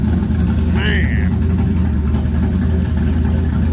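An LS-swapped 1983 Chevrolet K10 truck engine with Edelbrock control idles in a steady, deep, loud rumble, with a brief whistle-like tone over it early on.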